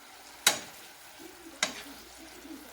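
A sugar sauce for escovitch fried fish sautés in a pan, with two sharp sizzling bursts about a second apart that fade quickly into a quiet, low simmer.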